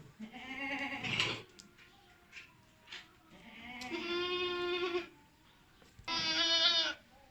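Three loud, close goat bleats with pauses between them, each a wavering, drawn-out call, the last one the loudest and most nasal.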